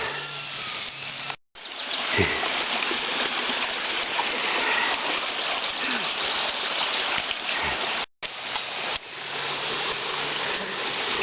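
Continuous rushing of a flowing creek on a canyon trail, loud and close, with a couple of abrupt cuts breaking the steady water noise.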